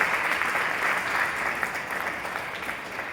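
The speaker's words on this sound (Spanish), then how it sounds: "denle un fuerte aplauso a la palabra del Señor" A church congregation in Celaya, Mexico, breaks into strong, dense clapping that holds as a steady roar, close and loud with no speech over it.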